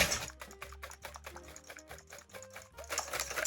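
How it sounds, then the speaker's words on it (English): A hand whisk beats cream with vanilla bean paste in a bowl, making rapid, rhythmic clicking taps against the bowl at close range with no talk. "Then we're going to get whisking"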